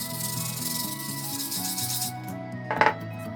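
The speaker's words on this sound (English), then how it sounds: "The last step is just to grab a sandpaper and remove all the rough edges" Sandpaper rubbing the rough edges of a handmade white cement tray, a steady close scraping rasp that fades, then a brief louder scrape near the end.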